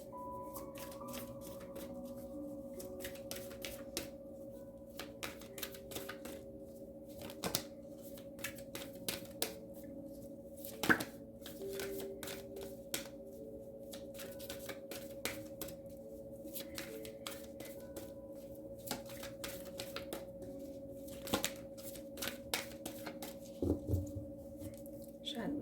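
Tarot cards shuffled in soft, repeated riffling bursts beneath a steady low hum, with a brief card snap or two standing out over the run.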